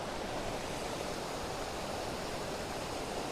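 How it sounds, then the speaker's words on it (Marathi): Steady broadband rushing of the Patalganga river flowing beside a temple in Khopoli, constant and fairly loud, with no voices or other sounds. "मंदिराच्या बाजूला बघा ही कशी सुंदर नदी वाहते आहे"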